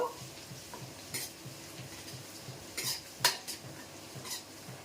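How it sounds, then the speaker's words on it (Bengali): Chopped ginger stirred in a hot pan for Gujarati khichdi, a low sizzle under rhythmic scraping, punctuated by several sharp metallic clinks of the spoon against the pan, close and fairly quiet. "এক ইঞ্চি আদা কুচি। ভালো করে নাড়া দেব।"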